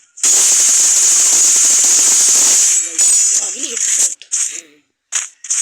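Rapid automatic gunfire from the mobile shooter Free Fire Max rattles loudly and continuously, then breaks into shorter bursts while a voice talks over it.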